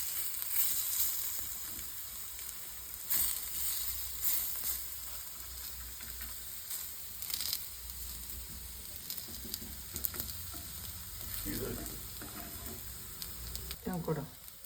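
Raw plantain slices fry in a little oil on a South Indian tava with a steady, soft sizzle and hiss. Occasional clinks and scrapes come from turning the slices, and faint background sounds drift in.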